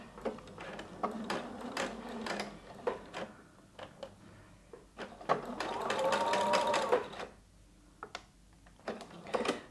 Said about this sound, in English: we're just going to sew that with a 3/8 seam, back tacking at the start and end of every seam to secure it